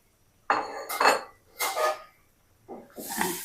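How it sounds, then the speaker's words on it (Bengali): Fried pomfret pieces go into a pan of simmering spice sauce, giving four separate clattering bursts of metal pan and utensil clinks with wet sizzle, close and moderately loud. "এখন আমি এই যে ভেজে রাখা রূপচাদা মাছগুলি দিয়ে দিব"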